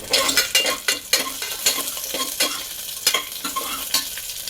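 Loud crackling sizzle of onion and garlic tempering in hot oil, with repeated scraping and stirring strokes, close up and without talk.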